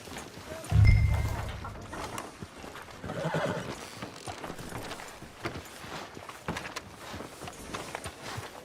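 A horse in Red Dead Redemption 2 gives a loud, close whinny near the start, followed by a steady clip-clop of hooves that continues under ambient game sound and some background voices.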